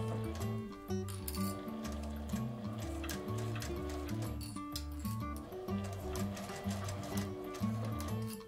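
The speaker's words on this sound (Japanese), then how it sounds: "一つずつ外して縫っていきます。" A sewing machine stitches a curved L-shaped zipper seam in a steady run, its needle ticking and whirring close up with a continuous mechanical rhythm and no voices.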